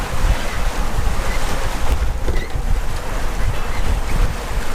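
Strong wind of about 25 knots roars across a sailboat under way at around 6 knots, with waves rushing and slapping against the hull, a loud constant buffeting close to the microphone.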